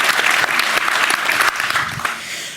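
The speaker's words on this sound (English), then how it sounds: "Please give her a round of applause." A room full of people applauds steadily at a live space-politics event in Washington, D.C., a dense, even wash of clapping that holds for the whole stretch.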